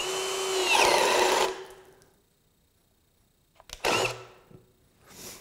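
A Ryobi 18V ONE+ HP brushless 1/2-inch hammer drill driver (PBLHM101B) on a 4 amp-hour battery whirs loudly through a bore, then falls quiet before two shorter bursts of drilling and a soft rustle.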